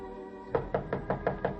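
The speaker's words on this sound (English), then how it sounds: "Knocked again." Knuckles rap on an apartment door as a sound effect in a spoken audio story, a sharp series of six evenly spaced knocks after a brief pause, clear and close.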